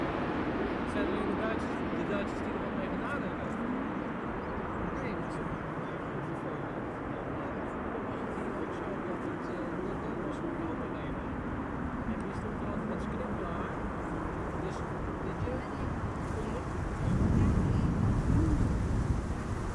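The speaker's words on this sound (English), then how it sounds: "A 787-10 Dreamliner arriving from LAX." A KLM Boeing 787-10 Dreamliner arriving from LAX to land at Amsterdam Schiphol, heard as a continuous deep jet roar with wind buffeting the microphone, swelling louder toward the end.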